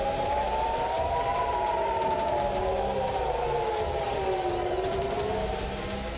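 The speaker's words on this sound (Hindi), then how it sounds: "हेलीकॉप्टर के करीब से गुजरने के बाद तेल अवीव में air red alert siren activate हुए।" Air raid alert siren wailing in Tel Aviv, a loud steady rising-and-falling electronic tone sustained throughout with overlapping pitch lines, continuous with no speech.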